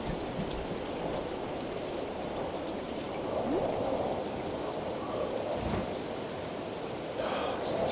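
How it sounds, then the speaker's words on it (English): Steady heavy rain pours in Stardew Valley as a thunderstorm rumbles low underneath, a constant wet hiss filling the space at moderate loudness without a break. "Feels like a storm out there."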